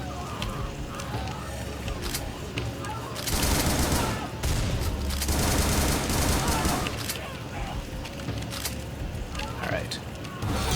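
Video game gunfire rattles in dense bursts, peaking in a heavy sustained volley midway, with a player talking over the shooting.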